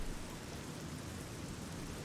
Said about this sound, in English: Oh, it's really dark and it's raining.